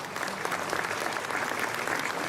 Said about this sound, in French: mesdames et messieurs, vous pouvez l'applaudir, Anthony Aymar.